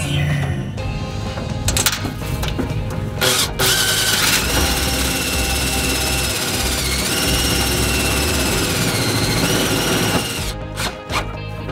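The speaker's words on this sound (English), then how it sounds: "So now we just got to run some screws in" A power driver runs screws into a low-profile RV tool box, one long sustained high whine that lasts most of the stretch, with short bursts and clatter before and after.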